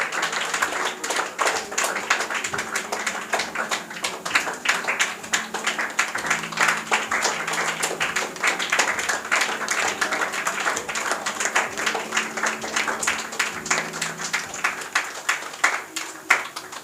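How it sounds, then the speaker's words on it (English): An audience claps continuously at an English academy's tenth anniversary celebration, a dense, steady applause of many hands held at an even loudness throughout. "Thank you so much for clapping wonderfully"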